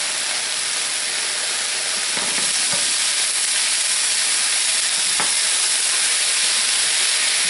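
Broccoli sizzles in a hot pan on a stovetop turned to high, a steady loud frying hiss filling the whole stretch, with a few faint clicks and stirring knocks partway through and no voices.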